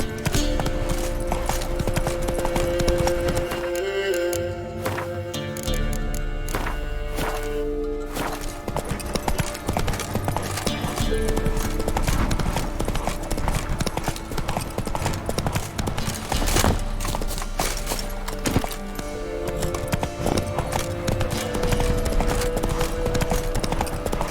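A horse's hooves clip-clop at a steady gallop in The Witcher 3: Wild Hunt, loud and continuous under dense game sound and music.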